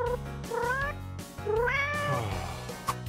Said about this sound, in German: Miau, miau, miau.